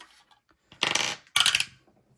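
Two quick rattling clatters of a die rolling on a board game surface, close and sharp, separated by a brief gap and followed by quiet, with no talking.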